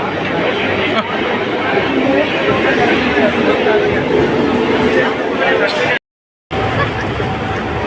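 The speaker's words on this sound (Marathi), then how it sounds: "रविवार असून पण फुल गर्दी नाला सुपर स्टेशन फुल गर्दी" A crowded Nalasopara railway station hums with dense, steady babble of many voices, one briefly cut by a moment of silence.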